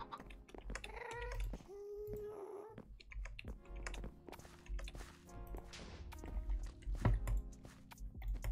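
A house cat meows several times close by, rising, wavering cries in a quiet room, with soft keyboard tapping and clicks between the calls.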